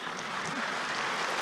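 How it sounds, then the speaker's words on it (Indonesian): A large audience at a political party anniversary speech claps in a steady, even wash of applause, moderate in volume and unbroken throughout, with no voices above it. "nah kan tepuk tangannya sedikit"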